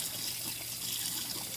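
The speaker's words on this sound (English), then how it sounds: "I'm putting it under the water right now." Tap water runs steadily into a sink at home, a continuous close hiss and splash with no break and no voices.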